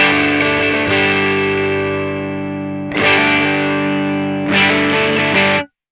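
Distorted electric guitar chords ring out through a Korg AX1500G amp modeler, cabinet air control engaged, three strums each left to sustain and decay, with a hollow, phasey tonal coloring.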